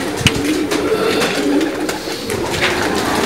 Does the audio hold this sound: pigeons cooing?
yes